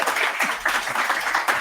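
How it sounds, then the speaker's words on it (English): A small audience gives brief, light applause during a conference talk on layout building, a short burst of scattered clapping that stays steady for under two seconds. "Small applause for Ines"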